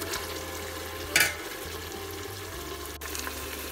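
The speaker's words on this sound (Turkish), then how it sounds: "Soğanlarımızla birlikte güzel bir sotelensin." Meat sautéing with onions in a pan for a Turkish meat and dried bean stew gives a steady, close sizzle and frying hiss, with a brief louder burst of stirring or a splash near the middle and no talk.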